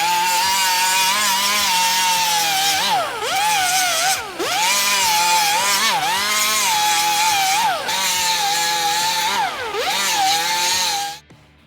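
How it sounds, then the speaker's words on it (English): Steel rectangle tube being ground with a power grinder on its flats and corner, a loud continuous whine that dips in pitch several times as the disc bears down, steady and alone until it cuts off at the end. "grind the flats, grind the corner, and then start rounding it out"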